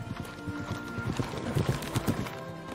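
A horse's hooves clip-clop in a quick, uneven rhythm as a rider heads toward the sea in a dubbed drama scene, with moderately close steps over a faint background.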